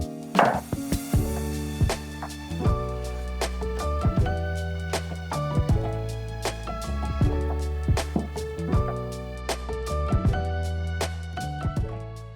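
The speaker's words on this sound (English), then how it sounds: "we are going to cut the carrot in half lengthwise" A knife cuts a carrot in half lengthwise while a steady backing music track plays. Occasional knocks and taps from the cutting sit under the music, close but subdued.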